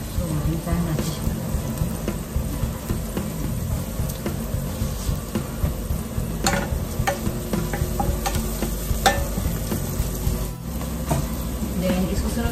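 Annatto (achuete) fries in a pan for kare-kare, a dense continuous sizzle with scattered clicks of stirring throughout, close and fairly loud.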